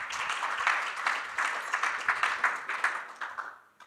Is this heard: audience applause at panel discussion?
yes